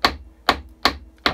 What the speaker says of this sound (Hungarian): itt van egy kalapács, ha megkocogtatom